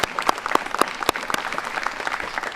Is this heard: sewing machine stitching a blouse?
no